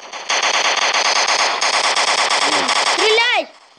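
Rapid machine-gun fire from a shooter video game pours out loud and continuous for about three seconds, echoing, with a few descending whoosh effects near the end before cutting off.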